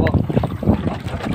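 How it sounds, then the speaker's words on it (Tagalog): Wind gusts buffet the microphone while out line fishing on a boat, a rough, loud rushing that fills the clip under a voice speaking. "Mahangin na kasi."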